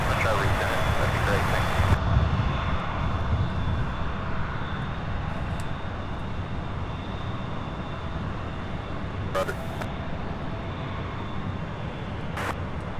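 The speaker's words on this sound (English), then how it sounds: "That A319, that was American Airlines 356 heading to, my goodness, I don't even know, it doesn't say, but that one took off" An American Airlines Airbus A319 takes off at Louisville's SDF airport, a steady broad jet roar that holds level throughout, with a few faint higher clicks and hisses over it.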